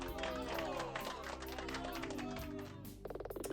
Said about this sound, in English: I like the scattered applause.